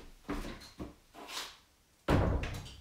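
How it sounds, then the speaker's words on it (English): A door is handled and closed indoors: a few soft knocks and creaks of movement, then a heavier thud as it shuts, close to the microphone with no talking. "I'm gonna close the door"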